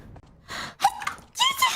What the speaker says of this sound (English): That sneeze was the cutest thing I've ever heard.